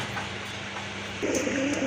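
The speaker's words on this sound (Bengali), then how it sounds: "অনেক বড় সাইজের কবুতর" Large pigeons at a bird sale coo in a soft low murmur, with a louder burst of cooing toward the end and no speech.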